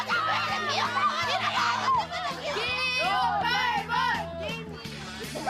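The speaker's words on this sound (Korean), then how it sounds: "이른 아침 등교길이 함성으로 가득 찼습니다." Children shout and cheer on an early-morning walk to elementary school during a new-term class president election, a lively outdoor crowd of young voices with chanting and laughter over a rhythmic beat.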